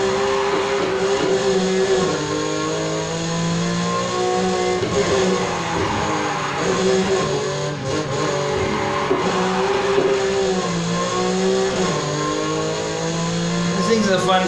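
A Mazda RX-7 Spirit R '02 with full track parts drifts in Need for Speed Heat, its loud engine rising and dropping in pitch through repeated revs and shifts, with a voice talking over it.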